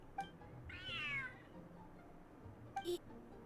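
A cat in Genshin Impact gives one drawn-out meow, then a short chirpy call a moment later, both fairly close and clear over a quiet game background with no talking.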